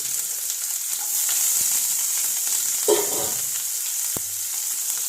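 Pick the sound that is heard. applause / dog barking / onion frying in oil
onion frying in oil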